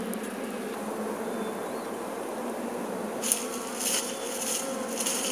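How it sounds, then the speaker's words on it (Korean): Honeybees that lost their home buzz in a dense, constant swarm drone while being moved into a hive on the slopes of Jirisan, with a few sharp clicks and knocks in the later seconds. "벌꿀은 집을 잃은 꿀벌들을 벌통으로 이사시킵니다."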